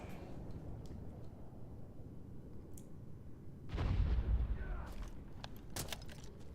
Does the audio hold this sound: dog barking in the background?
no